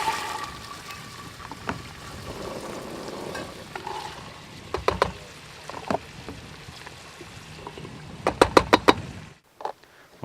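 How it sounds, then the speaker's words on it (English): Vegetables, onions among them, go into hot oil in a pot while a seafood chowder is made, giving a steady low sizzle with scattered stirring knocks and a sharp cluster of utensil clicks near the end before it falls quiet. "now I'll add in the vegetables into that nice hot oil"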